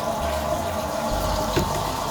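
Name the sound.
water running from a sink tap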